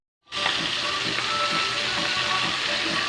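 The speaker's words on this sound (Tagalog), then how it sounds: "ito na yung prito. Pinaprito ko na" Oil sizzles and crackles loudly and continuously as fish fries up close, starting abruptly.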